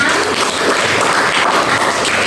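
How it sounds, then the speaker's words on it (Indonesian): A classroom of students claps for a student group, a brief, loud, steady burst of many hands clapping at once for a couple of seconds. "Tepuk tangan dulu untuk kelompok 6."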